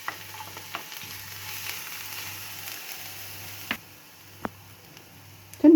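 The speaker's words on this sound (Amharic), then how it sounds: "ዘይቱ ትንሽ ጋል ሲልልኝ ነጭ ሽንኩርት" Garlic frying in hot oil in a pan for an Ethiopian dish, a faint steady sizzle with a few soft clicks and a sharper clatter at the end, no talk.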